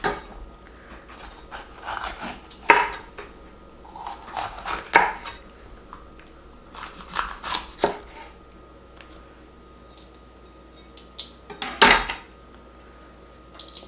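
A knife chops peppers on a board in a kitchen, with scattered irregular thuds and knocks of the blade, some sharp and loud, over a quiet background hum; no talking.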